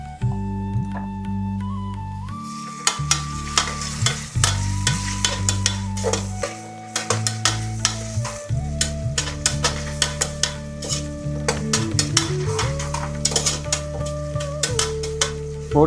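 Onion and tomato with a pinch of salt sautéing in a pan for a Karaikudi country chicken soup, a steady sizzle with repeated spoon scrapes and stirring clinks, close and fairly loud, with background music tones and no talk.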